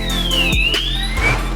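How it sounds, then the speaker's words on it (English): Fire alarm set off from a TNA TXC7141 manual call point, a loud electronic siren with sweeping up-and-down tones and pulsing bursts that fills the clip without speech. "allows occupants to trigger a fire alarm instantly with a simple press of the plastic dome"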